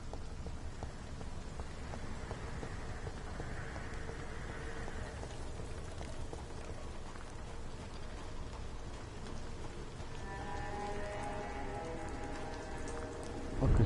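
Continuous steady rain falling in the video game Vampyr, a dense even patter with no letup and a faint musical tone rising near the end.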